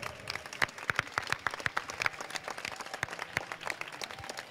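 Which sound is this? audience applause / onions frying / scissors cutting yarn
audience applause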